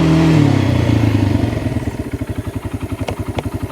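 A vehicle's engine pulls in low gear, a close, loud mid-range engine note settling into a rapid, regular chugging pulse with a couple of light clicks.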